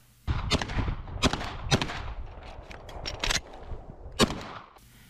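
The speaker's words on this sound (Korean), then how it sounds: "권총 소리가 날 때마다 표적에 붙어 있는 풍선들이 펑펑 터지고" Pistol shots ring out at a shooting range during a joint army and police counter-terror drill, popping balloon targets; a rapid string of sharp, loud bangs with short gaps, several clustered close together and a final crack near the end.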